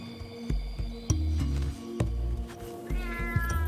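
A feral cat in Australia meows repeatedly up close, drawn-out cries with scattered knocks and rustling around them.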